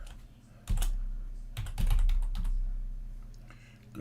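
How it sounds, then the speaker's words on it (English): Typing a password on a computer keyboard, a few close, irregular key clicks and taps with brief pauses and no talking. "you can't see my hands on the keyboard as I type in my 1Password password"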